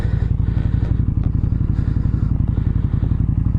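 A dirty spoke-wheeled motorcycle idles loud and close, its steady low engine throb pulsing evenly with faint mechanical clatter on top and no talking.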